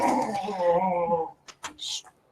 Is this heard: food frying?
no